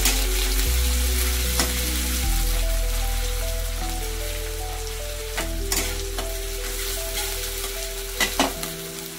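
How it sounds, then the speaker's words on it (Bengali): Chopped onion with a dried red chilli and nigella seeds frying in hot oil in a wok, a steady close sizzle with stirring scrapes and brief clatters, no talking. "একটু পেঁয়াজটাকে একটু ভাজা ভাজা মতো করে নেব।"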